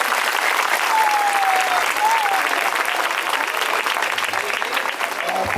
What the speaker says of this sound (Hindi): धन्यवाद। ताली बजाएंगे।